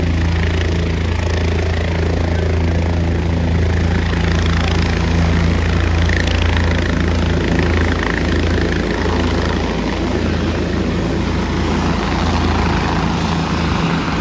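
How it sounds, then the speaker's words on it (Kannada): Helicopter taking off at the Tumkur Dasara festival, a loud, continuous rotor and engine roar that stays close and steady throughout. "ಇವಾಗ ಮತ್ತೆ ಟೇಕ್ ಆಫ್ ಆಗ್ತಿದೆ. ಮಕ್ಕಳಿಗೆಲ್ಲ ಯೂಶ್ವಲಿ ಹೆಲಿಕಾಪ್ಟರ್ನ ನೋಡಿರಲ್ಲ ಅಲ್ವಾ"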